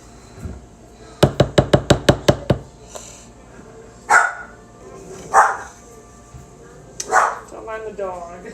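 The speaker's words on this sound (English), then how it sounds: "The dog." A dog barks in a fast burst of about seven sharp barks, then gives three or four more separate barks, loud and close in a home kitchen where a pound cake is being made.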